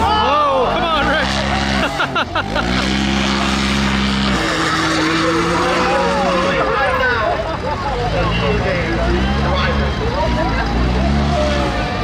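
Side-by-side UTVs including a Turbo RZR racing, engines revving and shifting loudly with tyre skids, while people talk over the din.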